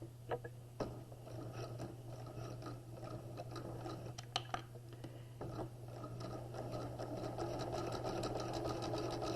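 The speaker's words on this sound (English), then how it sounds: "So we're going to use a plain stitch and we're going to back stitch." A sewing machine stitches bias tape onto fabric with a steady, close motor hum and rapid needle clatter. Occasional handling clicks break the hum, and no one speaks.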